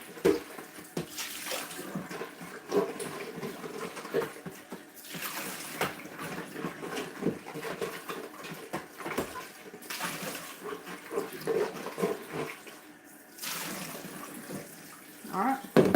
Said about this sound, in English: Rinse your other bowl out.